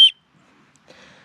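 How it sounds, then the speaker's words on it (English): A small whistle attached to a ferro rod from a budget survival kit gives one very short, shrill blast, followed by faint handling noise. "a small ferro rod with a whistle"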